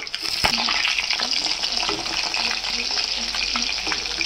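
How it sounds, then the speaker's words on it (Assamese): Fish sizzles in hot oil in a pan as it is flipped for an Assamese fish curry, a steady frying hiss with a sharp clatter near the start and soft scraping throughout. "এবাৰ মাছটো লুটিয়াই দিওঁ এতিয়া মাছখিনি ফ্ৰাই হৈ গ'ল"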